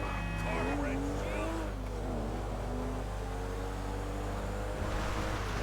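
A car in the video game GTA 5 drives along with a steady engine drone and shifting revs, heard under someone talking.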